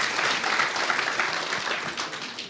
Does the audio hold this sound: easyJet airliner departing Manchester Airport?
no